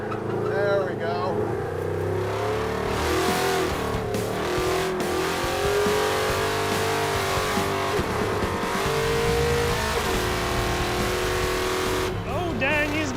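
A muscle truck with a 4-link rear suspension and weak front brakes accelerates hard around an autocross course, its engine roaring loudly and rising in pitch, with some tire squeal and a voice talking over it.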